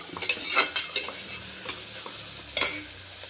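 Ginger garlic paste frying with fresh coriander leaves in a pan for chicken kurma, a continuous close sizzle punctuated by sharp spoon scrapes and clinks against the pan, heaviest near the start and again toward the end.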